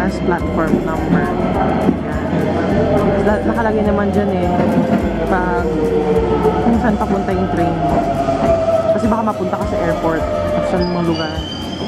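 A rapid train passes by in Tokyo, a loud, steady rumbling roar with clattering wheel noise that fills the whole stretch.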